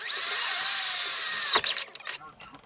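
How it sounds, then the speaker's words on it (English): A power drill boring a hole for a VW MK4-MK6 X brace mount, whining loud and steady up close for a second and a half, then cutting off into a few short bursts and rattles. "So I have the first hole drilled up to 1/4 inch."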